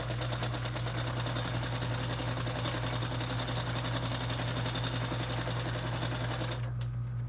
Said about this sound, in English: And I'm going to top stitch that.